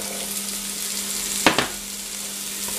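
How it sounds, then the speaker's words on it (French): Celery, garlic and carrots for minestrone sautéing without browning, a steady soft sizzle with one brief clink of a utensil stirring the pan midway. "Et on va encore faire revenir, on remue un petit peu"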